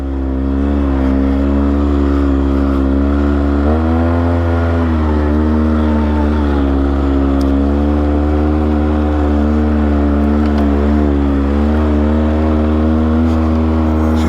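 A Polaris Sportsman 570 ATV in two-wheel drive high clawing its way up a steep hill, its engine droning loud and close in a steady, laboring hum that dips and rises as the throttle shifts.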